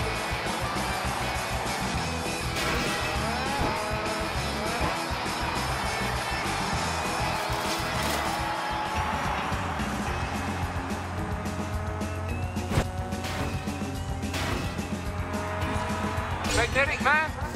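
A car races in the Cars 3: Driven to Win video game with a steady, close engine drone, rising pitch sweeps and occasional skids, under game music and a talking voice.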